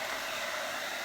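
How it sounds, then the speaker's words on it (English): A blow dryer on its low setting pushing wet paint across an art surface: a brief, steady, close airy whoosh with no voice. "with my blow dryer, I don't like to start it on high. Just start it on low here"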